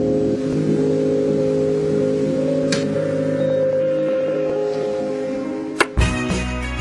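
A car's engine drones steadily from inside the cabin on a drive out to the coast in Japan, with a sharp knock near the end.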